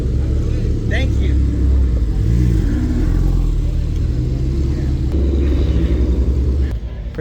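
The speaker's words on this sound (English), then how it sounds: "the sound of the Ferrari and Audi together just humming perfectly in tune right there" A Ferrari and an Audi run together at a morning car meet, giving a low, steady rumble with mild rises in revs while voices talk faintly in the background.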